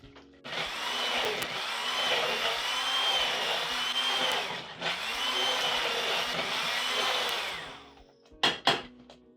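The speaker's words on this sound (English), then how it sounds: "I will come in with an immersion blender" A steady, loud electric whir of an immersion blender running for several seconds, briefly dipping once, then stopping with a few clunks at the end.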